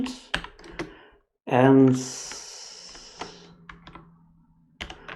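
Keys clatter on a computer keyboard while a post is typed, in short clusters of crisp clicks around a brief spoken word, with a final burst of typing at the end.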